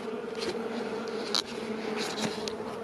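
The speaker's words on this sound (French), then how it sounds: "C'est tout noir, mais c'est rempli d'abeilles." A swarm of honeybees packed inside a dark roof space gives off a dense, steady buzzing hum, close and continuous throughout, with a few louder individual bees passing near.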